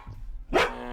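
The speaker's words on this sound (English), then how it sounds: "Can I pet that dog?" A single sharp dog bark, close and fairly loud, rising out of a quiet room background with faint low sounds before it.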